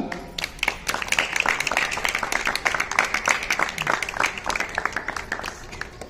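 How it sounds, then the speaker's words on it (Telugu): An audience claps for a song at an International Women's Day event, steady scattered applause of moderate loudness that continues throughout. "మరి అంత మంచి పాటకి ఒక చప్పట్లు కొడదామా గట్టిగా?"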